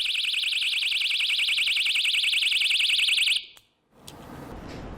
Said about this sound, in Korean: 그녀는 호신용 경보기를 들고 다닙니다.